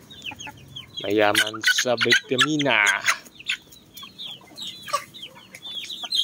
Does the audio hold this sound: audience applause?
no